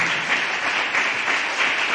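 A church congregation claps hands together in a dense, continuous wash of applause, loud and sustained with slight surges, with no voices standing out.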